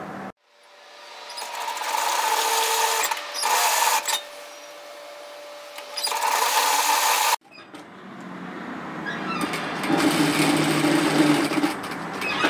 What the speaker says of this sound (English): we're going to sew this long seam at the underarm